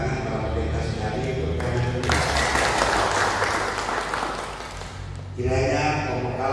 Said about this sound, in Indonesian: Kita perlu beri apresiasi dan tepuk tangan para pendeta sekali